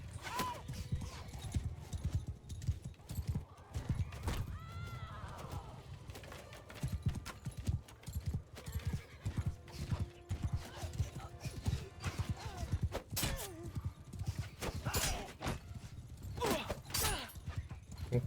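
Horses in a Mount & Blade II: Bannerlord battle gallop with dense, continuous hoof clatter, and several whinnies rise above the din while faint voices shout in the background.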